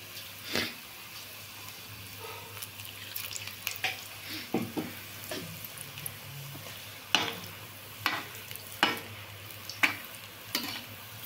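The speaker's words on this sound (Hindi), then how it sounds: "अब हम फ्राई करेंगे हरी मिर्ची को, इसको भी बेसन में डुबो दिया है।" Green chillies coated in gram flour batter fry in oil with a quiet, low sizzle, punctuated by intermittent sharp clinks and scrapes of a utensil, fairly faint and without speech.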